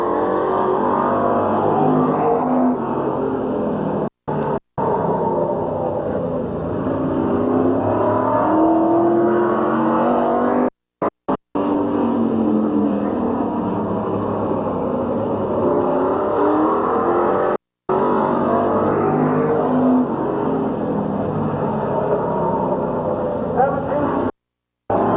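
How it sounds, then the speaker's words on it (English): Race cars circle Midvale Speedway in a 1987 race, their engines a steady loud roar that swells and fades as the field passes, interrupted by a few brief dropouts, with an announcer's voice running over the noise. "Mike Dawson out there now in 88"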